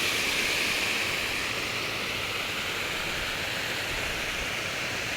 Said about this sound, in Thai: ฟังเสียงน้ำตกครับ พี่น้องเสียงน้ำตกครับ